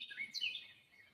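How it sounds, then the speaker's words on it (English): Faint bird chirps outdoors, a few high, thin tweets within about a second, with no talk. "The birds agree with me."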